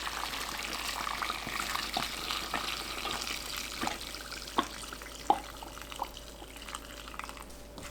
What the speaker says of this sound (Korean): 뜨거운 상태로 부어주세요.